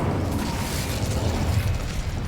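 Incendio fire spell cast in Hogwarts Legacy on Xbox Series S, a steady low roaring burst of flame with rumbling boom that holds at even loudness for a couple of seconds.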